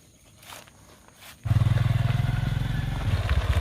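A motorcycle approaches and rumbles loudly past close by, its engine suddenly dominating after a quiet stretch of faint background noise.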